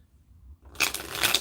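Tarot cards are shuffled by hand during a card reading, a soft close riffle and slide of cards starting after a quiet moment, with no one speaking.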